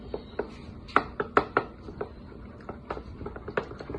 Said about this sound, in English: I'm just taking a wooden spoon and just stirring it around just to blend it together a little bit.